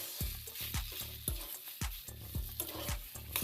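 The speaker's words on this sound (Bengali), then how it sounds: "এবার মশলার সাথে আলুটাকে খুব ভালো করে এইভাবে নাড়াচাড়া করে মিশিয়ে নিতে হবে।" Grated potato and spices are stirred in a pan for a crispy semolina-potato snack, a steady rhythm of scraping strokes, about two per second, over a faint sizzle, close and clear with no talking.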